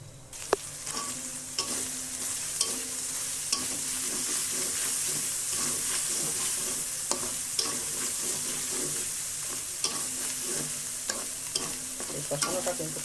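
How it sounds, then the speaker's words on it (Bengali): Spices sizzling and frying in ghee in a pan for a chicken roast, with steady crackling and repeated stirring scrapes, close and continuous throughout. "এইভাবে মশলাগুলো সুন্দর করে কষিয়ে নেবো"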